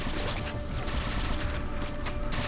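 Sustained burst of rapid gunfire from a weapon in the video game Halo 4, loud and continuous with dense crackling shots and no pauses.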